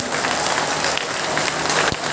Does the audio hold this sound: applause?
yes